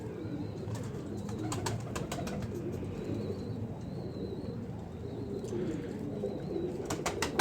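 A male pigeon coos in low, repeated phrases close by, with a steady background murmur and occasional faint higher chirps from other birds.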